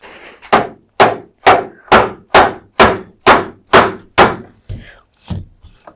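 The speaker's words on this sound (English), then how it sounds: "Let me get my mallet." Nine sharp, evenly spaced mallet blows strike a freshly glued joint on a wooden gate leg table, loud and close, each a hard thunk with a short decay, followed by a couple of fainter taps.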